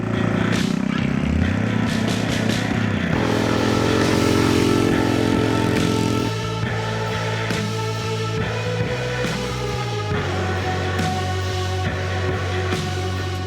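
A mini bike's small engine runs loud and close without a break, a steady buzzing drone that shifts pitch a few times as the throttle changes.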